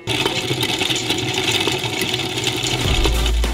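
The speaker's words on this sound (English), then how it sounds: "The stone millstones gradually grind the peanuts, and because of the oil released, the mass becomes moist." A stone melanger grinding fried peanuts for peanut butter, giving a steady, loud mechanical hum and rumble with a rattling texture that runs unbroken throughout, with a deeper low thump near the end.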